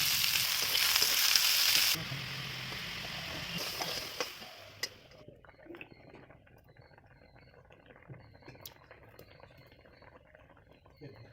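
Onion frying in an iron wok over a wood-fired clay stove for fish curry gives a loud hiss for the first couple of seconds, then fades to a softer, crackling sizzle with occasional clinks and brief voices.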